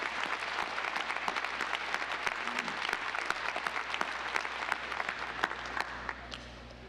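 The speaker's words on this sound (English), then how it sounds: "Let's give another great big round of applause." A commencement audience applauds the Chamber Singers at a SUNY Broome graduation ceremony, steady crowd clapping heard at a moderate distance, sustained for several seconds before easing off at the end.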